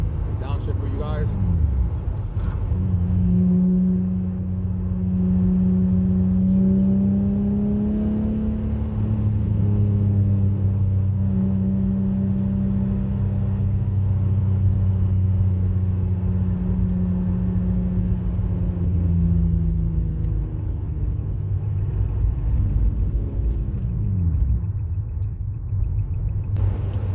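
An Infiniti G35 fitted with ISR test pipes downshifts and revs, its exhaust rising into a loud droning whine that holds steady then falls away, heard from inside the car with a low rumble throughout.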